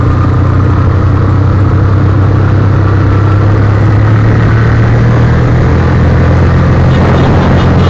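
A car engine runs steadily with a low, droning hum on a steep mountain descent on the road to Sajek Valley, no voices, holding a constant strained tone throughout.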